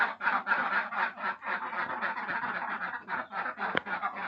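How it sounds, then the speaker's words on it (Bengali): Ducks at a combined duck and chicken farm give a continuous, overlapping chorus of quacks and honking calls, moderately close and fairly faint, with no talk over them. "এখন আপনাদেরকে দেখাবো আমি একটি হাঁসের খামার।"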